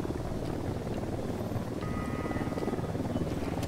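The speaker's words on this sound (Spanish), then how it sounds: "El helicóptero es el que más por culo me da." A helicopter in the video game Ghost Recon Wildlands thrums with a steady, fairly faint rotor chop and engine drone, continuous throughout with no voices.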